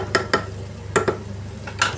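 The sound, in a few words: stirring mung bean stew (munggo) in a pot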